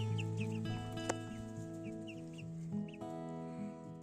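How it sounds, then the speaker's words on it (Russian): Hens, including a broody hen sitting on eggs, cluck softly in short, scattered bursts over a steady low mechanical hum, fairly quiet and close. "А это курочка-наседка, которая недавно села высиживать цыплят."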